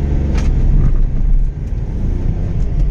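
Hyundai Xcent S diesel base model, 2012–18, pulling away from idle in first gear during a 0–60 run, a loud low engine rumble close by that surges and briefly dips as it accelerates.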